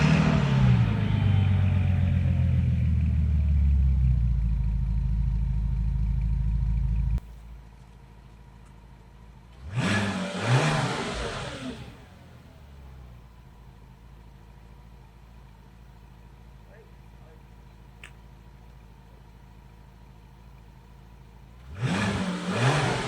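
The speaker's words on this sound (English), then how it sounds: "And straight away we find that the engine is running" A 2008 Bentley Continental GT, wrecked and with engine running issues, cranks and fires, settling into a loud steady run before cutting off. Two more bursts of cranking follow after pauses.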